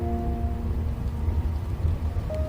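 Steady rain streams against the window of a moving train, a soft continuous patter over a low rumbling hum, with faint tonal hums fading in and out.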